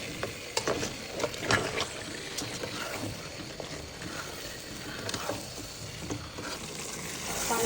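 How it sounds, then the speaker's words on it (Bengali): Meat sizzles and fries in a pan with a spice paste, a steady soft crackle broken by scattered pops and the occasional scrape of stirring, with no talk. "মশলা মোটামুটি কষানো হয়ে গেছে, এই পর্যায়ে মাংসগুলো দিয়ে দেবো।"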